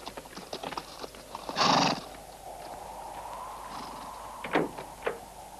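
Horses in a spaghetti western scene, with clip-clopping hooves moving throughout, a sharp neigh or whinny partway through and further snorts later, fairly close and clear over a quiet background.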